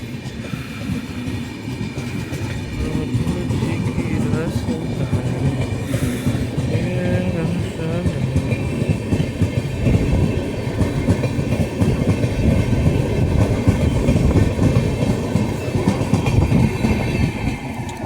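A passenger train departing Lushala railway station rumbles and clatters steadily for a long stretch, the rhythmic clack of wheels on rails up close and continuous.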